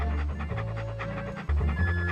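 Dog panting in the video game Monkey Island 2, with quick rhythmic breathy pants over a synthesized game music bed, steady and fairly loud throughout.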